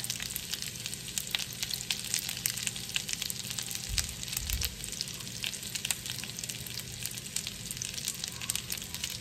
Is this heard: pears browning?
yes